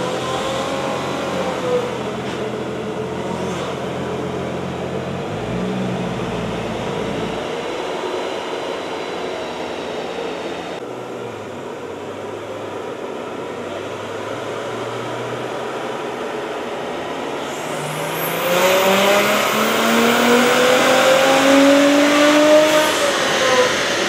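A 2023 Honda Civic Si engine cruising in sixth gear around 3,300 RPM, a steady drone under road and wind noise that swells and rises in pitch near the end as the car speeds up.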